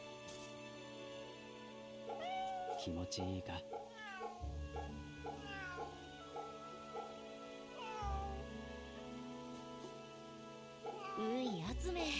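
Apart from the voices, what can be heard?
cats meowing in video game Fate/Samurai Remnant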